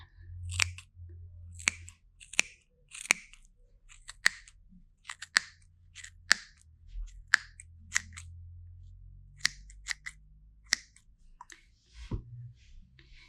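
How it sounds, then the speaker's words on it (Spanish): Scissors cutting yarn for tassels: sharp snipping clicks repeat irregularly, a dozen or so close-up cuts with brief pauses between them, over a faint low background hum. "Y con ayuda de sus tijeras van a cortar."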